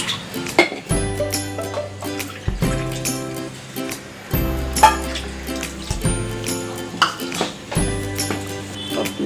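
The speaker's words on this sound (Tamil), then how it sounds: "ஒரு கப்பு தண்ணி விட்டுக்கலாம்" Water is poured into coconut milk in a cooking pot, giving intermittent splashing and trickling pours with clinks from utensils, close and fairly loud, with no talking.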